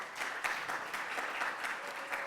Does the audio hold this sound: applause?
yes